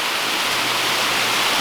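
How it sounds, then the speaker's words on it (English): Steady, full rushing water from a small waterfall along the trail at Wildcat Falls in Pisgah National Forest, North Carolina, close and continuous with no voices. "It's a little small waterfall that's along the trail shortly after you get started."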